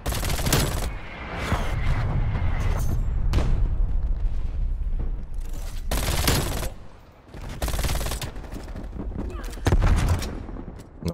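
Dense gunfire from an MP5 submachine gun in Black Ops Cold War, with a grenade blast, bursts of rapid shots and booming hits filling the scene at close range with brief pauses between volleys.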